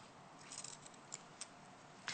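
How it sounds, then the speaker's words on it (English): Scissors cutting fabric along a sewing seam line: a few soft, scattered snips, faint and close over a low steady hiss, with no voices. "so I'll cut to the line on the bottom."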